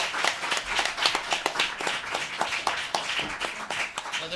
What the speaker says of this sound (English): Another round of applause for Amy Gerstler